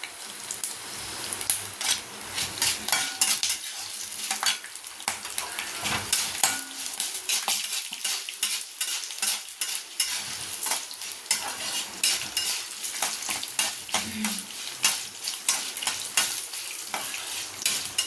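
Ginger, garlic, green chilies and dried red chilies fry in oil in a kadai, a continuous crackling sizzle broken by rapid, busy scraping stirs and light metal clinks, close up, with no voices.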